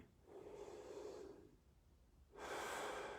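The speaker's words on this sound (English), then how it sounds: "It's called crocodile breathing. So when you do is you come here, put your hands behind you, right, just to the side, and breathe." A person does crocodile breathing, lying with the hands behind them, taking two slow, deep, audible breaths close to the mic with a quiet pause between them.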